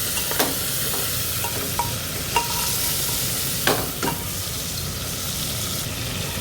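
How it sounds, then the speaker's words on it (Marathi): Mutton masala sautéing in oil in a pan gives a steady, close frying hiss, with a few sharp spoon clicks and scrapes as it is stirred and mixed. "तीन 4 मिनटं हे तेलावर छान परतून मिक्स करून घेऊया."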